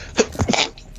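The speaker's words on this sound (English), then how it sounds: "Good sneeze, bless you." A single quick, close sneeze, loud and abrupt, with a short breathy tail and no talk.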